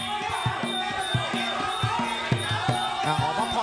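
A Muay Thai crowd at a Super Champ bout chants and cheers in a steady rhythmic roar, with regular pounding beats running underneath the continuous noise of the audience.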